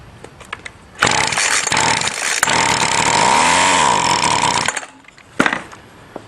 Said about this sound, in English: Now a tiny shot of gas, and pull it and see if it starts and dies to see if the motor's good